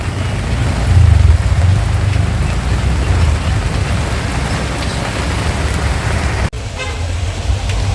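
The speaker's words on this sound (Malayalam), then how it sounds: "നല്ല മഴ" Heavy rain pours in a loud, dense hiss that holds steady throughout, with a vehicle horn sounding briefly near the start.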